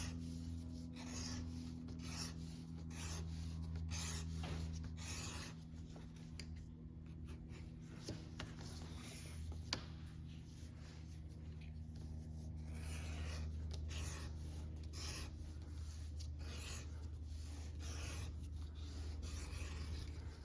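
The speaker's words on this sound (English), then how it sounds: "I'm going to use my Ron's tool number 3 here, and we're going to round these edges over." Repeated rubbing scrapes come from a leather edge-rounding tool, a Ron's tool number 3, drawn along the edges of a two-layer leather dog collar in quick, rhythmic passes, close and quiet over a low background hum.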